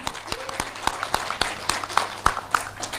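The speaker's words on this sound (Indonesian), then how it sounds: "sekali lagi tepuk tangan dong buat Mas Ganjar" An audience at a festival talk applauds, giving a short burst of scattered, fairly sparse claps at moderate distance.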